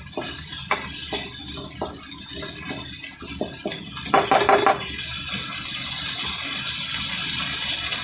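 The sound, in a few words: pouring half a cup of water into cooking pot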